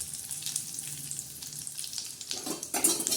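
Cumin seeds and curry leaves sizzle and crackle in a small amount of hot oil during tempering, a steady close frying hiss with a few louder spits and stirring near the end.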